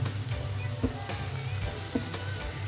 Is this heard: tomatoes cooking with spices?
yes